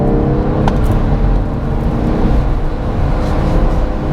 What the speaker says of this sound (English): you can hear that roar of rev matching in it